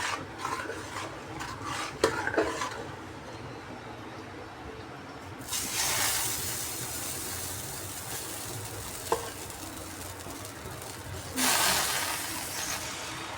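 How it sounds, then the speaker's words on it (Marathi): Dosa batter spread onto a hot pan, scraping and spreading strokes followed by bursts of hissing sizzle that rise and fade, close with no talk. "डोसा टाकून घ्यायचा आहे आता"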